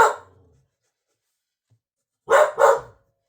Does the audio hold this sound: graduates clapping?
no